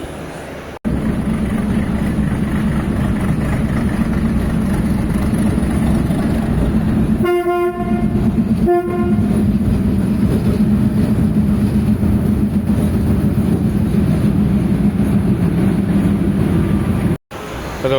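The Yelagiri Express moving through a station, with a continuous loud rumble of rolling rail cars close by and two short horn toots partway through.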